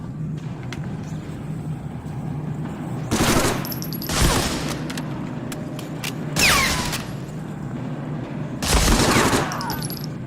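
Gunfire rattles in Medal of Honor: Frontline, with four loud bursts of automatic fire spaced a second or two apart over a low, steady background rumble.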